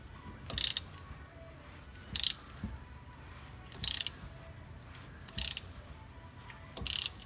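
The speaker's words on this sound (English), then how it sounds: "you have a little bit more room for your ratchet" Ratchet wrench clicking in five short, evenly spaced bursts while turning a bolt on the rear axle of a 1988 Mustang GT, close up with quiet shop background between strokes.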